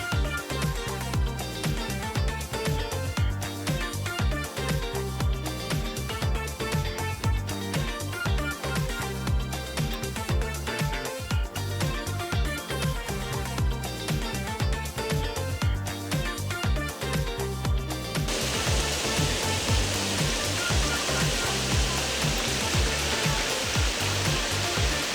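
A river rushes in a constant broadband roar beside a hiking trail, a steady wash of water that keeps going with no pause, turning brighter and hissier near the end.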